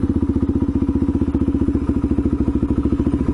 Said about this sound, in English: There's a motorcyclist on my left lane.